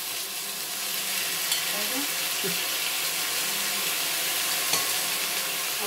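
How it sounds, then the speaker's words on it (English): Beef slices for Filipino-style beef steak sizzling in a very hot pan, a steady close hiss throughout with faint clicks, and a brief spoken word near the start. "The pan is really hot now. So I'm going to give it the beef. And then I'm gonna put one by one in the pan."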